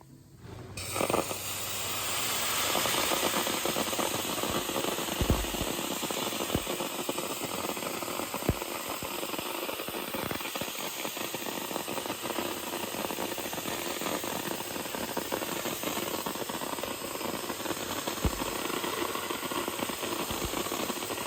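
A dry ice blasting machine cleans a surface with a continuous loud hissing, rushing blast of air that starts after a brief pause and holds steady, with occasional thumps and no talk.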